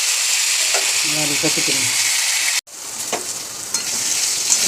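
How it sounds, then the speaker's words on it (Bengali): Pointed gourd (potol) frying in oil with salt, a loud continuous sizzle with a few stirring clatters and a brief break midway; a voice speaks briefly over it. "ভালো করে নেড়ে চেড়ে লাল লাল করে ভেজে নিই পটলগুলো।"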